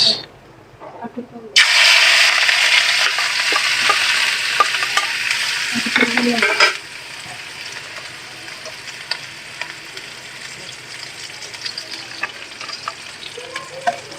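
Onions and chilies hit hot oil for a quail curry, bursting into a loud, bright sizzle with stirring scrapes, then settling into a quieter steady frying hiss.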